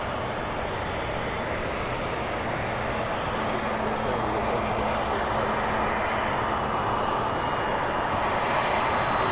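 A Boeing 767 moves at Louisville International Airport with a loud, steady jet engine roar that swells slightly. A voice speaks briefly over the noise.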